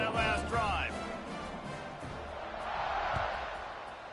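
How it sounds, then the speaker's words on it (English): A college football stadium crowd roars in a steady, broad wash of cheering during a video game broadcast, with a commentator talking over the noise throughout. "this crowd is feeling themselves after that last drive"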